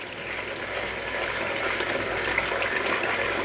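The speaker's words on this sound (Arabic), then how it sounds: "بدي اضيف هلا فوق مي سخنة" Hot water pouring steadily into a cooking pot for chicken with barbecue sauce, a continuous close splashing gush with no talk.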